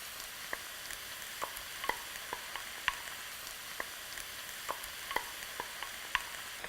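Tomatoes and potatoes fry in a pan for a Filipino corned beef hash, giving a steady close sizzle dotted with sharp, irregular crackles and pops and no talking.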